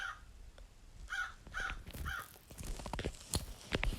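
Crows caw in a Roblox Brookhaven RP game, a series of harsh, loud calls repeated in an irregular rhythm, some overlapping, with other game noises mixed in.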